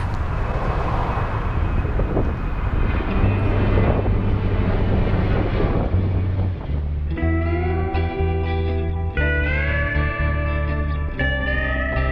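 A fixed-wing airplane passing very low and close beside an airport on a roadside loop, with a loud, steady roaring engine drone, while a musical tone pattern enters partway through.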